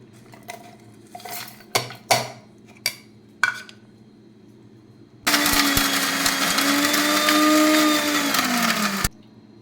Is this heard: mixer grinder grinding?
yes